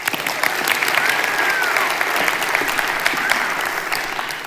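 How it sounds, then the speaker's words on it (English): A live audience at a talk on body language gives a round of applause, many hands clapping in a thick, continuous roar that swells slightly and stays loud for several seconds. "Give her a round of applause."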